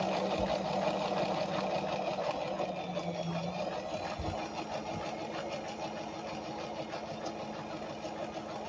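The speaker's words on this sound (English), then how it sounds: "I'm just gonna sew all the way up the side" A sewing machine runs a long continuous seam up the side of a technician coverall leg, a steady close mechanical whir with needle rhythm throughout.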